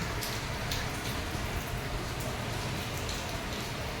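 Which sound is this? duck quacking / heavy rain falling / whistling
heavy rain falling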